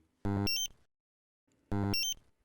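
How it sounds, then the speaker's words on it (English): Two loud electronic alarm bursts, each a rapid harmonic beeping tone lasting about a quarter second, separated by over a second of silence. "The audible, visual and vibration alarms are all activated periodically."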